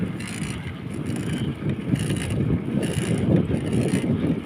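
A bicycle ridden outdoors in rural Maguindanao on a windy, warm day, with a steady low rumble of tyres and chain and gusts of wind noise buffeting the microphone throughout.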